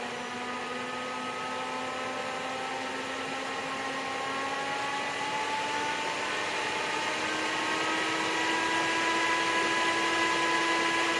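Cooling fans in a Thor gaming PC rig whir steadily as they ramp from their lowest setting toward full speed, the airy hum rising slowly in pitch and loudness without pause.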